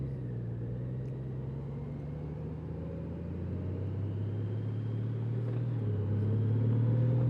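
A Honda Goldwing motorcycle engine drones steadily while riding in sport mode, a close low rumble with wind noise that rises in pitch and loudness, then dips and climbs again as it shifts gears.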